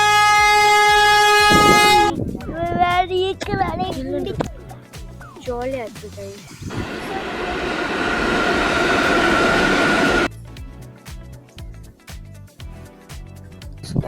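A Vande Bharat train rolls past with a steady roar and clatter, a long horn blast near the start, and someone talking over the passing noise.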